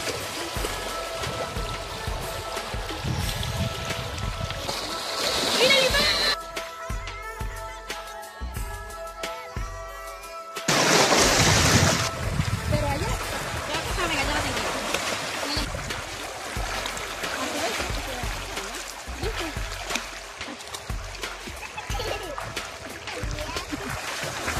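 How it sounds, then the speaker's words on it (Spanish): A flowing river streams and splashes continuously, with a short quieter stretch midway, under intermittent talk. "miren el agua para que no miren que es un río sucio, un río cochino"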